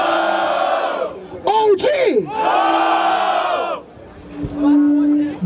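Crowd at a Brazilian freestyle rap battle in Barueri roaring and cheering loudly in sustained waves, with an MC's shouted call breaking through between bursts.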